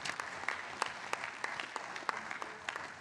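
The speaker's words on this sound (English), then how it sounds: "So again, another round of applause for Dan." A small audience at a communications and outreach seminar gives a brief round of applause, a steady patter of scattered claps heard up close with no talking.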